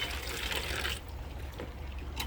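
Water trickles and splashes steadily in a recirculating water circuit at a recreated 19th-century Texas village, a soft close gush that eases after the first second into a quieter dribble.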